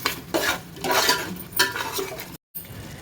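Chicken gravy for biryani stirred in a pot: a spoon scrapes and clinks against the metal in uneven strokes over a soft bubbling sizzle, close and moderately loud.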